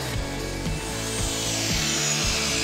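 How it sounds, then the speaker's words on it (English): Circular saw cutting a 4x8 sheet panel in half for a bathroom project, its steady motor whine loud and close, with rhythmic dips as the blade works through the board. "It's super easy to work with, and we're just gonna cut it to size with the circular saw."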